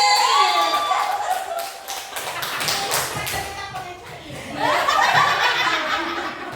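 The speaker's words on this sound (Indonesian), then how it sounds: "Tepuk tangan dulu buat ibu-ibu di sini" An audience at a school teachers' presentation in Rangkasbitung applauds the women present, a dense patter of clapping rising and fading over several seconds, with chuckles and a voice talking over the end.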